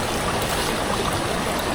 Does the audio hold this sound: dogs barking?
no